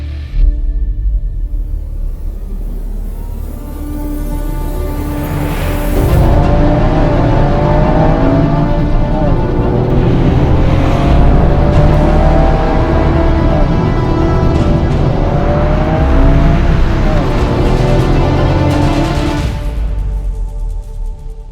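A Toyota GR Yaris, a rally-bred hot hatch, drives and revs with a loud, sustained engine note whose pitch climbs and falls through repeated rises and gear changes, building steadily and easing off near the end.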